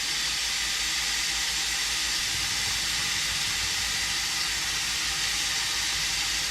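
Onions and garlic hit ground beef browning in a pan for pasta meat sauce, giving a steady, loud, even sizzle that holds throughout.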